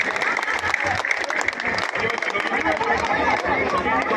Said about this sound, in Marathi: जोरदार टाळ्या वाजून आपण त्यांचं कौतुक करू